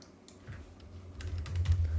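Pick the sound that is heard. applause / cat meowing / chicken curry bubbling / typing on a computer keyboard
typing on a computer keyboard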